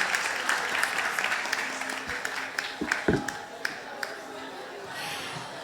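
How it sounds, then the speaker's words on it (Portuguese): A festival audience applauds a guest coming onto the stage, a spread-out wash of clapping that thins toward the end while a presenter talks over it. "Uma salva de palmas para ela."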